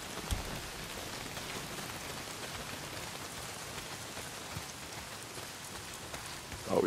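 Steady rain pours down across a rural camp in the video game Days Gone, a continuous hiss of drops hitting the ground that holds at an even level, with a slightly louder burst right at the end.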